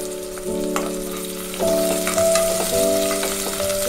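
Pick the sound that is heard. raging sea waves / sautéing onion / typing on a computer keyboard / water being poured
sautéing onion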